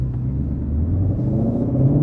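A brand-new 2020 Ford GT500 with 48 miles on it stumbles and misfires under acceleration, a low, uneven rumbling engine note heard up close for a couple of seconds without talk.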